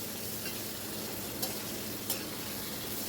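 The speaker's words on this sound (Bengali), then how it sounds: "দিয়ে পটলটাকে আমি ভালো করে ভেজে নেব" Pointed gourd fries and is stirred in a pan with turmeric, a steady low sizzle with a couple of brief scraping clicks, fairly quiet and with no voices.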